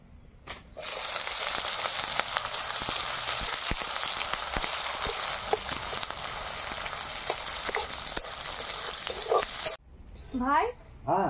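Chopped onions hit hot mustard oil already tempered with dried red chillies, bay leaf and whole cumin, giving a loud, steady, close sizzle for about nine seconds before cutting off. A voice briefly starts at the very end.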